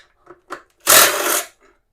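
A power tool briefly spins up as it removes one of the two bolts holding the sissy bar on a 2009 Honda Rebel 250, a single loud whir under a second long, preceded by faint taps.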